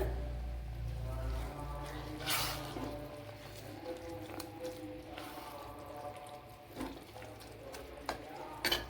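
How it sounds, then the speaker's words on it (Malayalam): Hot water splashes into a pan of chicken masala snack filling, a steady pour with soft liquid gurgling and a few brief clinks, close and fairly quiet. "ഇതിലേക്ക് കുറച്ച് ചൂടുവെള്ളം ചേർത്ത് കൊടുക്കുക."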